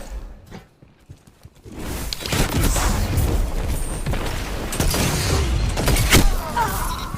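A grenade blast and gunfire erupt in Destiny 2 during a Trials of Osiris elimination match: a quiet start with a few sharp clicks, then a dense, loud stretch of booming impacts and rapid shots.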